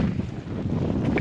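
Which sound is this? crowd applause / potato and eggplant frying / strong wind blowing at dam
strong wind blowing at dam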